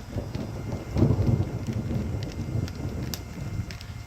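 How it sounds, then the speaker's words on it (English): Steady rain falls with a low rumble of distant thunder rolling underneath, and faint patters and wind across the whole stretch. "we have some really bad thunder and lightning happening"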